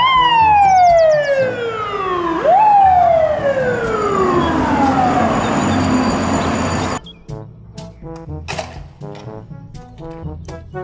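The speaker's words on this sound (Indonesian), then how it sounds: "Mobil truk pemadam." Toy fire truck siren wailing loudly, its pitch sweeping down, jumping back up and sliding down again, then cutting to a quieter stretch of short chirpy electronic tones and rattling.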